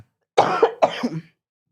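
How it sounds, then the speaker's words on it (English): Two close, loud coughs from one person in quick succession, each a rough burst trailing into a throaty rasp, alone against silence. "You're going to edit out all this coughing and everything?"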